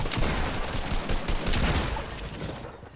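Video game shotgun fire in a dense, loud barrage of overlapping blasts and booming thuds, continuous over a short stretch, with no voices.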